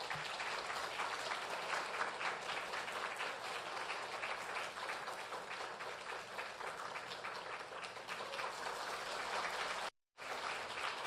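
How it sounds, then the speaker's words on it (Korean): A church congregation claps to welcome a speaker to the front, a continuous dense wash of many hands that stays steady and fairly distant, cut by a brief dropout near the end. "그래서 우리 대표님 나올 때 큰 박수로 여러분 환영해 주시면 감사하겠습니다"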